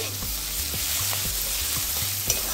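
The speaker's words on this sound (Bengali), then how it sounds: "এবার এই পেঁয়াজ রসুনটাকে একটু ভেজে নিচ্ছি।" Onion and garlic, salted and spiced with turmeric, frying in a pan with a dense steady sizzle and a regular pattern of spatula stirring strokes.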